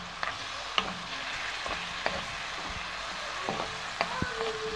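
Ingredients for a minced meat gratin sauté in a pan, with a continuous sizzle and irregular scrapes and knocks from stirring, close by.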